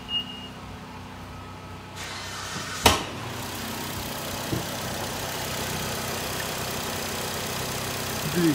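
A 2.0-litre Nissan Qashqai 4WD engine idles with a low, even hum throughout, broken by a sharp click near the start and a few faint knocks.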